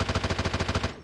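Automatic gunfire in the video game Apex Legends Mobile: about a dozen rapid, evenly spaced shots in a tight, loud burst, then a quick tail-off.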